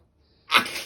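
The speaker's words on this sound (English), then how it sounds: "That's how you sneeze, guys." A person sneezes once, a sharp close burst after a moment of near silence, trailing off briefly.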